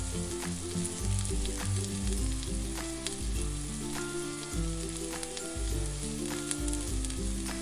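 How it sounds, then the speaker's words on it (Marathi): Semolina (rava) batter sizzles steadily in a hot, oiled appe pan, a continuous close frying crackle with music-like tones running underneath and no talking. "तेल घालून झाले की यामध्ये रव्याचे बॅटर घालून घ्यायचे आहे।"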